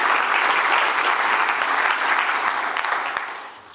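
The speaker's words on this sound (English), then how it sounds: "We'll give you a big clap as well." Audience at an awards ceremony giving a big round of applause, dense steady clapping that carries for a few seconds and then tapers off.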